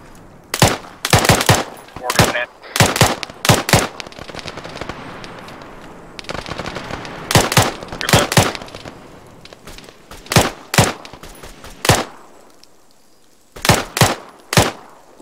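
Automatic rifle fire in the military shooter Arma 3 cracks out in sharp, loud bursts of several rounds each, repeating with brief pauses across the whole stretch, with faint talk beneath.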